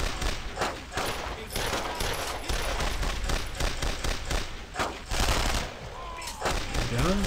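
Dense, continuous gunfire from the World War II video game Brothers In Arms: Road To Hill 30 on the Wii, with loud overlapping rifle and machine-gun bursts throughout.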